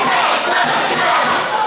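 A wrestling crowd at a caged tag-team match chants loudly and continuously, a dense wall of voices that stays at a steady level without a break.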